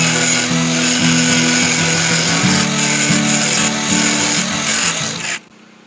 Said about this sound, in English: now I'm going to take my angle grinder and I'm going to cut from there to there so that I've got a slot that it can slide in